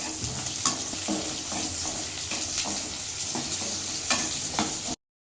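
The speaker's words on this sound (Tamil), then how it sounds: "இப்போ பார்த்தீங்கன்னா வெங்காயம் போட்டு வதக்கலாம். வெங்காயம் நல்லா வதக்கணும்." Onions sauté in oil for a country chicken curry, with a steady close sizzle and frequent scraping knocks as a spoon stirs the pan, until the sound cuts off abruptly into silence.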